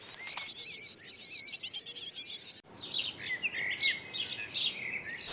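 A small bird with a blue cap and yellow chest sings close by in a garden, giving rapid, high chirping phrases, a brief pause, then more bright trills.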